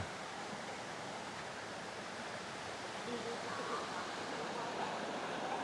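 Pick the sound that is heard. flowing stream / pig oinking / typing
flowing stream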